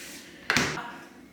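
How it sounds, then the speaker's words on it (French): A kitchen freezer door, its doors newly reversed, gives one short sharp thud, close and alone, followed by a brief fading rattle in a quiet room. "congélateur, ça s'ouvre tout dans le bon sens"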